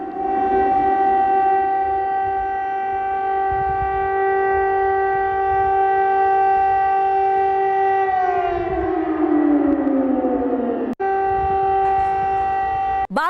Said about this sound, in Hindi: ये एयर रेड सायरन आप सुन सकते हैं।